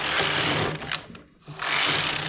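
Knitting machine carriage sliding across the needle bed, a steady broadband mechanical whir and rattle lasting about a second, breaking off briefly, then resuming just as loud; no talk.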